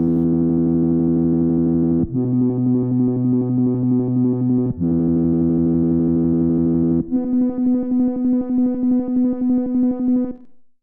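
Wobbly synth tone made from a sample on an Elektron Digitakt, a loud sustained buzzy note that steps between pitches every couple of seconds, then wavers in a pulsing tremolo before fading out, with no voices.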